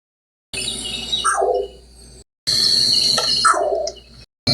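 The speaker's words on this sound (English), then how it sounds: "Green Heron." Green Heron calling twice, each a harsh, loud, downward-slurred squawk with a short gap between the two calls.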